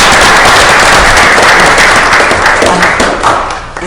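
Loud applause from the audience at a Marlboro County Council meeting, dense clapping that holds strong for several seconds and then thins and tapers off near the end.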